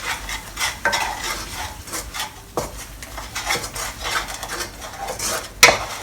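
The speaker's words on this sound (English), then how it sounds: "Stir them up." Salt and sugar seasoning stirred into a pan of salted egg chicken, metal utensil scraping and clinking against the pan over a light sizzle, with a sharp clank near the end and no talking.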